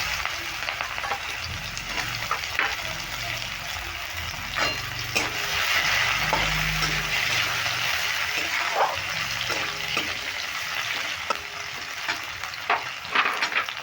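Sliced onions frying in a pan for a banana-blossom curry, a loud continuous sizzle with stirring and scraping of a spoon against the pan, close up.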